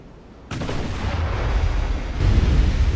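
Warship guns fire in the naval battle game Ultimate Admiral: Dreadnoughts, a loud booming salvo breaking in suddenly, then a sustained rumbling roar swelling again with a second blast.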